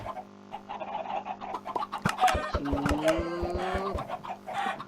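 Minecraft chickens cluck and squawk in short repeated bursts as one is killed for meat, with game sound effects and tapping clicks close by, no talking.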